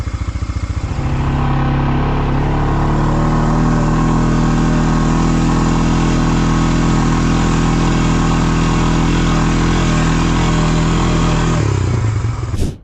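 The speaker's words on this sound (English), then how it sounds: "for my initial first trip up, we'll take the quad" A quad bike engine runs steadily and loudly up close for about twelve seconds on a rough road near an old mine, with a steady low drone that cuts off abruptly near the end.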